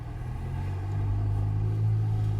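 A modified Ferrari Portofino in sport mode gives a steady, loud low engine rumble that swells slightly partway through, close by, with no distinct exhaust pops standing out.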